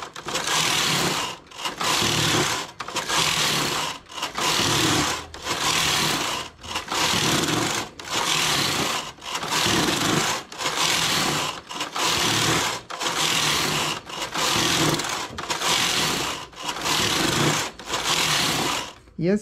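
Knitting machine carriage sliding back and forth across the needle bed while knitting a 2x2 rib scarf, a loud whirring rasp in about fourteen even passes separated by brief pauses, close up and steady.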